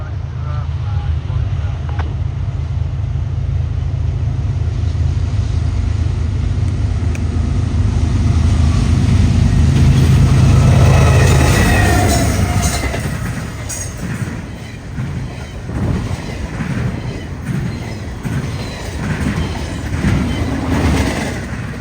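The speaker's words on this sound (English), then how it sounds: "a heavy haul freight train pounding a set of switches up close and at speed" Heavy CSX freight train led by two GE locomotives running wide open at track speed over a set of crossover switches, loud and close, with a steady low rumble that swells into clattering wheel impacts and then fades to wind-buffeted noise.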